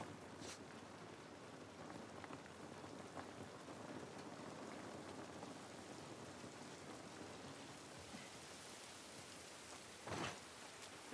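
Steady rain falls outdoors in The Last of Us Part 1, a continuous even hiss of drops with a brief louder splash near the end and no talking.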